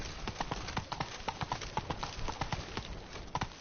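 Hooves of Roach, the horse in The Witcher 3 Blood and Wine, clip-clopping in Beauclair: a quick, steady rhythmic beat of hoofbeats, close and distinct, with no voices.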